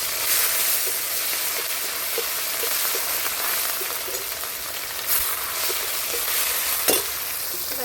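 Ground chili paste and chopped tomato fry in a pan over caramelized sugar, a steady close sizzle with soft stirring scrapes and occasional sharper pops, with no voices.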